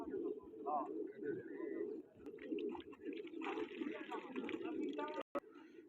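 Pigeons coo softly in a low, continuous murmur close by, mixed with a few brief chirps, while someone talks over them.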